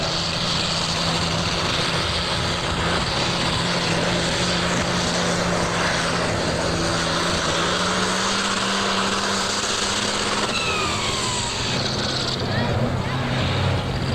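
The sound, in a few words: super stock pulling tractor engine roaring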